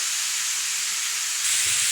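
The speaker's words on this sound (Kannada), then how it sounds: "ಇದೆಲ್ಲ ಸೇರಿ ಒಂದು ಮಿಕ್ಸಿಂಗ್ ಮಾಡೋಣ ಚೆನ್ನಾಗಿ" Ingredients stirred and roasted in a hot pan give a steady close sizzle with a soft hiss, growing slightly louder near the end, with no voices.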